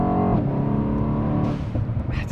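Mercedes-AMG E63S with a tuned 4-litre V8 biturbo engine making 840 PS accelerating, a loud deep engine roar whose pitch climbs then drops briefly at a gear change before pulling on, heard from inside.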